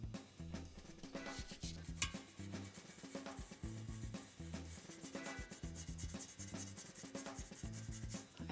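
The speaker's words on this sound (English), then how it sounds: "we've been scrubbing away for the better part of like 10 minutes" Rhythmic back-and-forth scrubbing rubs steadily against a surface while lipstick stains are worked off, close and fairly quiet, repeating in even strokes without talk.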